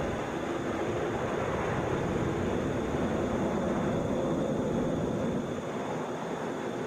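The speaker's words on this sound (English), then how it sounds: "Delta 841 from Salt Lake City just landing there. Airbus A321." Delta Airbus A321 arriving from Salt Lake City and landing at Atlanta's international airport, heard as a steady, even broadband jet roar that holds for the whole stretch with no voices over it.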